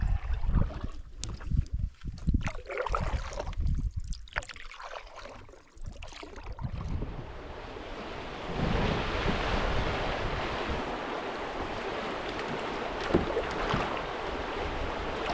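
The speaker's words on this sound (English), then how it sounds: "Kind of a fun little rapids underneath the snowmobile trail here." Rushing water churns over small rapids on the Swan River beneath a snowmobile trail in a steady broadband roar, with wind buffeting the microphone and some handling knocks early on.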